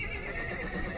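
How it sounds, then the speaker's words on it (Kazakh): A horse whinnies at a suburban livestock market near Bishkek, a single sustained, close neigh filling the short moment with no talk over it. "Жылқы."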